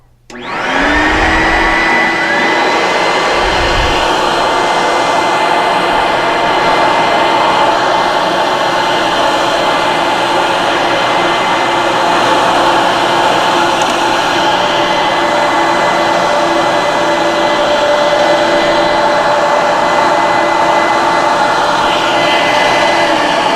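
The vacuum motors of a Phoenix Hydro X VacPac carpet extractor start up and run continuously for over twenty seconds, a loud, steady whining roar heard close by with no talking.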